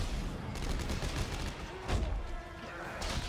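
Rapid gunfire bursts from a weapon with a shot cooldown in the sci-fi horror game Dead Space 3, overlapping thumps under dense game noise, continuous and moderately loud through the clip.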